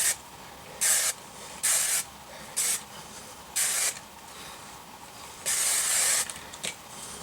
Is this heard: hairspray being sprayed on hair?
yes